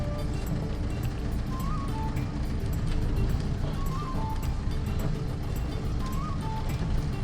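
A Mahindra Roxor with a still-cold engine pulls away for a short drive, a loud steady engine drone and road rumble with a few faint chirping squeaks riding on top.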